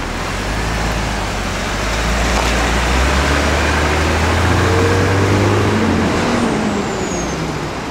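A BMW Alpina B6 rolls slowly through a residential street, its low engine rumble steady and close under broad road and tire noise, with no talking.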